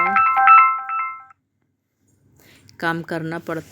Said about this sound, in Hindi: और मेरे बहन का फ़ोन आ रहा है, तो बात भी करना है।